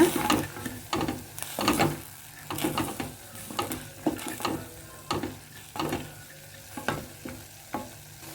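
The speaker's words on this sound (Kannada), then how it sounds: "ಸಣ್ಣದಾಗಿ ಹೆಚ್ಚಿರೋ ಶುಂಠಿ ನೋಡಿ ಇದೆಲ್ಲವನ್ನು ಒಂದು ಸಲ ಚೆನ್ನಾಗಿ ಫ್ರೈ ಮಾಡ್ಕೊಳ್ಳೋಣ" Garlic and finely chopped ginger fried in a pan for a village-style multigrain recipe. A spoon scrapes and stirs in a steady rhythm, about two strokes per second, over a soft, continuous sizzle, with no voices.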